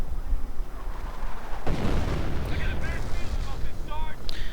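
Artillery shells slam into a Krieg barracks in a strategy video game: a sudden heavy impact rumbles in, followed by a run of shell bursts and crackling debris over a continuous battle din.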